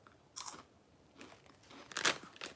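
Crunchy pea-flavoured snack chewed close to the mic, a few distinct crisp crunching bites separated by brief quiet pauses.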